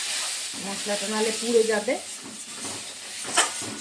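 Ground spices sizzle loudly in a hot pan as a little water is poured in, a close steady hiss and crackle running under someone speaking.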